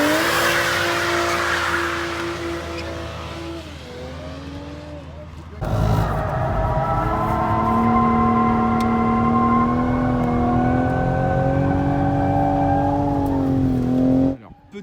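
A 2019 Toyota Supra A90 and other cars lap the Ferté-Gaucher circuit, with loud sustained engine drones that rise and fall in pitch as cars pass nearby, and one engine note abruptly growing louder midway.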